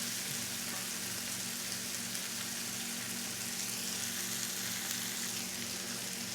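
Mixed vegetables sautéing in a pan for ramen with hoisin sauce give a continuous, even sizzle at steady moderate loudness, with no stirring strokes or talk.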